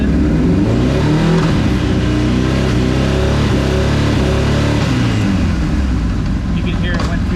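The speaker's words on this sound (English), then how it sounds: "So I'm just going to rev up past 3000." Engine revved past 3000 RPM and shifted through the gears without the clutch, a loud, close, continuous mid-pitched engine roar with shifting tones, a voice speaking over it.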